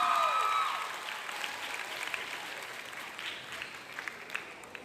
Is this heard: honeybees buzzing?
no